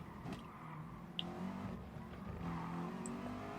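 A racing car in Gran Turismo Sport holds a steady engine drone while braking and driving on, with faint brief tire chirps and a mild swell in engine noise toward the end.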